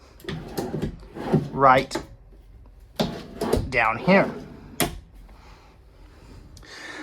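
Kitchen drawers in a 2024 Keystone Cougar 24RDS travel trailer slide open and shut with several sharp wooden knocks and thuds, close by, between bursts of someone talking.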